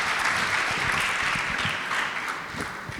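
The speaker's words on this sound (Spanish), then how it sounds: "Un aplauso para los panelistas y un aplauso también para ustedes." Sustained audience applause for the panelists at a financial sufficiency panel, a dense, even roar of clapping hands that stays strong for the whole stretch.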